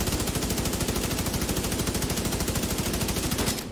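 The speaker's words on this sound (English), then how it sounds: "Oh fuck, I'm getting shot at from behind." Rapid automatic gunfire in The Division 2 on Xbox One X, a loud, continuous burst of closely spaced shots rattling for several seconds before cutting off abruptly at the end.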